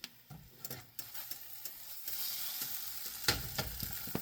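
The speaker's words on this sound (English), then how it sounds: "This week it's all about frying eggs." Eggs sizzle and crackle in a hot pan, with scattered clicks and scrapes of a utensil, close by and fairly quiet.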